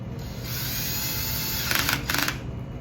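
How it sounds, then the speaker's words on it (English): A power driver briefly drives screws into the layered velocity cells of a high-resolution PFAS passive profiler, two short whirring bursts close by over a steady background hum. "I'm only going to put a few of the screws in."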